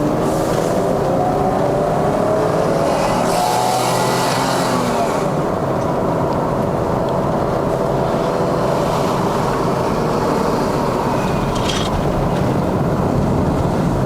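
A BMW E39 523i climbs a mountain road uphill in Malaysia, with a steady loud engine drone and road and wind noise inside the cabin that rise and fall slightly as it pulls through the gears.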